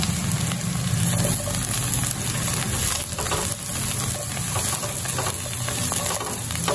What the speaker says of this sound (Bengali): তেলের মধ্যে ভালো করে নেড়ে নিয়েছি